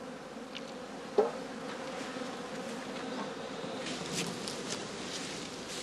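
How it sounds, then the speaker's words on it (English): Honey bees buzz steadily around straw skeps at an apiary, a dense continuous hum with a brief knock near the start. "To attract the bees to the food, the beekeeper pours a little solution directly into each skep."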